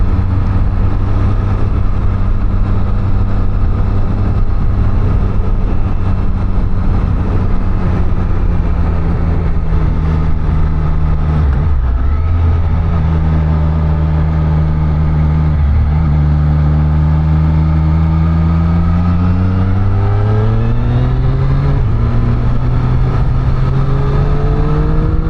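A Triumph Street Triple 765 RS three-cylinder engine with its stock exhaust runs loud and steady, then rises and falls through several revs as the rider accelerates, with no talk.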